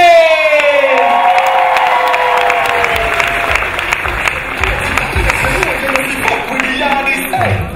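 A large festival crowd cheers and applauds loudly and steadily for a performing act, with whoops and shouts rising over dense clapping throughout.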